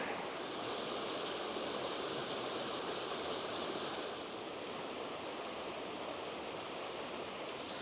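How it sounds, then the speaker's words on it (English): A small tributary waterfall spills down a steep hillside beside a hiking trail at Big Soddy Creek, making a continuous broadband rushing wash at moderate distance, with no voices. "We got a small tributary waterfall coming down the steep side, and it comes down to here, and it looks like it flows under the trail."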